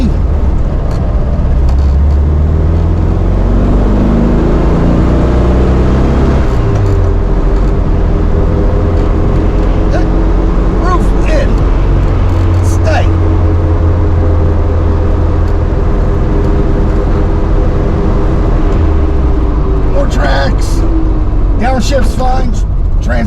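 A 1972 VW Karmann Ghia with a newly fixed clutch and rear main seal drones from inside the car, revs climbing and dropping through several gear changes, loud and continuous as someone talks over it.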